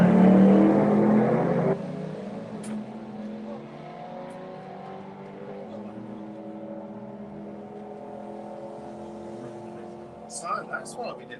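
An Audi V8-engined car revs loudly at first, then settles to a steadier engine drone under people talking, with a few sharper bursts near the end.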